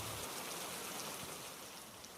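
Heavy rain pours at Badrinath in thick fog, a dense, even hiss of falling water that stays steady and fairly quiet throughout, with no voices.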